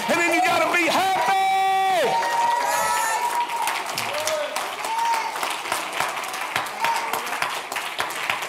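A church congregation claps and hollers during a Sunday morning service, with loud continuous clapping and shouted whoops, and sustained sung or organ-like tones rising over the start.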